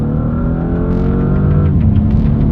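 A 2025 Bentley Flying Spur Speed accelerates hard in second gear, its engine rumbling loudly with a steadily building drone from inside the cabin, no talk.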